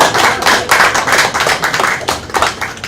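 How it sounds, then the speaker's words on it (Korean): A church congregation claps together during a Korean guest-pastor worship service, a dense run of hand claps with rhythmic surges, fairly loud and close, with no talking over it. "저희도 박수를 한번 쳐주기 원합니다"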